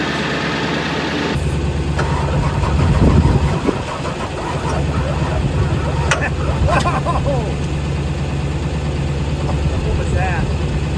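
An abandoned Ford OBS 7.3 Powerstroke diesel with hydraulically actuated injectors, ether-primed, cranks and sputters into a loud rough close running, with knocking bursts throughout and a voice talking over it.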